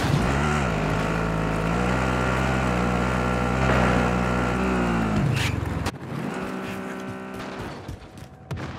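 A vehicle in Call of Duty Modern Warfare, a loud, steady engine drone that rises and then drops as it shifts, followed by lighter rumbling and mechanical clatter.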